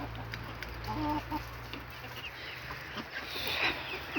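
Ducks and drakes being fed by hand on a farm as the cold season sets in, giving a few soft, brief quacking calls over a steady low background hum, nearby but fairly quiet, with no talk.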